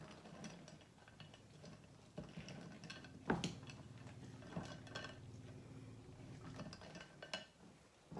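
Spoon stirring melted white chocolate in a bowl, giving quiet scraping and clinking with a few sharper taps against the bowl, close and faint.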